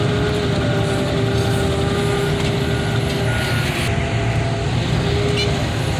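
A heavy loader at a car crushing yard beeps steadily while reversing, the regular tones sounding over a loud, constant diesel engine rumble close by.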